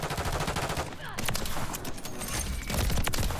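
Rapid automatic gunfire rattles in Modern Warfare 3 as shots penetrate a wall, with dense bursts, sharp reports, and scattered game effects throughout, loud and close.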